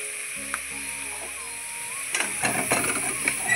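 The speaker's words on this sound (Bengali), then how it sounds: "দিয়ে আবারও ভালোভাবে নেড়ে চেড়ে নিচ্ছি।" Potatoes dusted with turmeric powder are stirred in a frying pan, a soft sizzle running steadily underneath, with scraping and clinking strokes growing busier toward the end; a faint melodic tone sounds early on.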